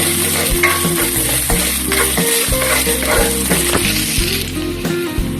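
Ginger frying in a hot wok for a coconut-milk vegetable and shrimp stew, loud continuous sizzling with repeated scraping stir strokes and a low rhythmic background hum, no talking.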